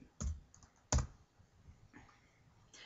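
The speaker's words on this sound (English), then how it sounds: "Hold on, I gotta type it in." Fingers tap a computer keyboard in a few quiet, separate clicks, two sharper keystrokes followed by lighter scattered taps, close by in an otherwise hushed room with no talking.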